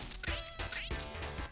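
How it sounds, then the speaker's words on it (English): A cat bouncing on a pogo stick in the video game Bun n' Gun gives a few short, cartoonish meows in quick succession over steady game music. "Is that a cat on a pogo stick?"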